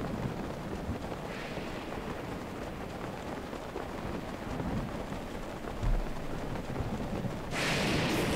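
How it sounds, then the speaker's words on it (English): Steady rain falls in The Legend of Zelda: Breath of the Wild, a constant hiss mixed with wind rumble at moderate loudness, with a brief low thump and a brighter swell near the end. "And it's raining."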